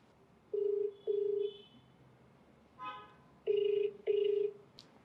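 A phone call being placed: a telephone ring tone sounds in two long double bursts at a steady rhythm, with a short dial or line tone between them, fairly clear and with no talk over it.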